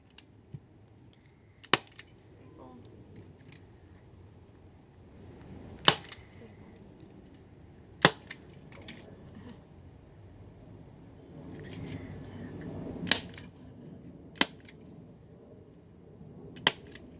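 Scissors snip through upholstery fabric during a chair re-upholstery job, giving a handful of sharp, isolated clips spaced several seconds apart over quiet rustling.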